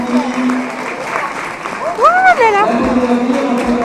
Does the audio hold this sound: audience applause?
yes